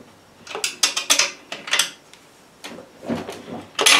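A wrench tightens the rear screw of a car exhaust during refitting with a homemade gasket, producing bursts of close metallic ratcheting clicks and clanks separated by short pauses.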